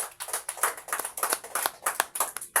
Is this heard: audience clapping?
yes